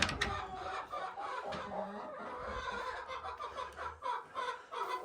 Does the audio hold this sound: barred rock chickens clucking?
yes